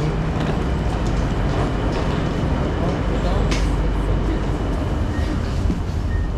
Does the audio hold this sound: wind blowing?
no